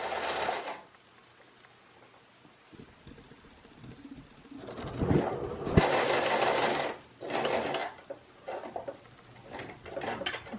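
A sewing machine top stitches close to the edge of a fabric face mask, running in several short bursts of mid-loud whirring separated by pauses and small handling noises.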